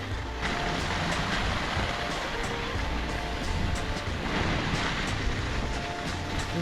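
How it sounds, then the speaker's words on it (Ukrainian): Strong, steady mountain wind roars and buffets continuously at Goderdzi ski resort, Georgia, with broadband rushing noise and occasional gusts swelling louder; no one speaks. "куртка продуває наскрізь, просто вітер тут"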